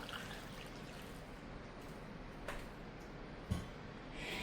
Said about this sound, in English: But that milk is done. Go ahead and pour that in there too.